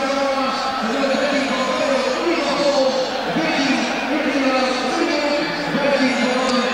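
A fanatical Dutch football crowd fills a stadium at a Holland v England World Cup qualifier, a dense, steady roar of chanting and noise under a commentator's voice.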